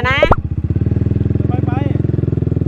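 A motorcycle engine catches after a brief starter crank and settles into a steady, loud, rhythmic idle putter close by, with a voice talking briefly over it.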